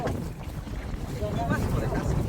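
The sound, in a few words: wind on the river by a fishing boat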